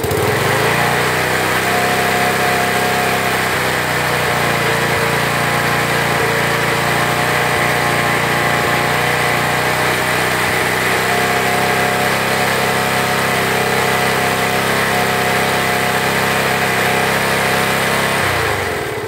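A Tramontina 16.5 HP tractor engine runs steadily with a buzzing, droning small-engine hum, loud and close, while the tractor still has several faults and defects, with no talk over it.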